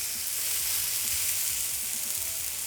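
Eggplant slices frying in oil for baingan bhaja, a steady close sizzle that hisses on evenly without pause.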